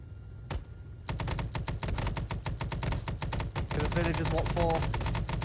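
Rapid gunfire in Arma 3 (S.O.G. Prairie Fire) crackles almost continuously for several seconds after one sharp early shot, loud and dense, with a voice speaking over the shooting.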